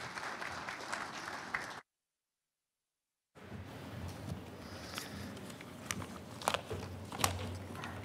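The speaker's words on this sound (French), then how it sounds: "On peut applaudir." Audience applause at the official opening of a forum, a steady wash of clapping from a large crowd that cuts out briefly and then resumes with scattered louder claps.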